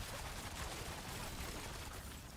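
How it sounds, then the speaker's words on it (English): Explosions in the video game Diablo IV, played as a Rogue, form a dense, continuous rumbling barrage of blasts at low volume with no clear gaps. "I didn't even know what those explosions were, but they hurt"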